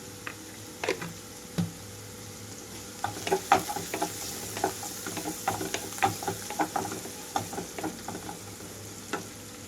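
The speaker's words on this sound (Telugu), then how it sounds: "నానపెట్టుకున్న శనగపప్పు అలాగే గోంగూర కూడా వేసేసుకుంటున్నాను" Soaked chana dal and gongura leaves, with a little turmeric, fry in a pan with a soft, steady sizzle, broken by intermittent scrapes and light clinks of stirring.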